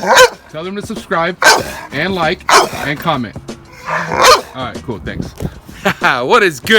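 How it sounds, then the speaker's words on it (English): A pit bull barks and yips in short bursts close to the microphone, mixed in among someone talking over it. "Sorry about my psycho dog."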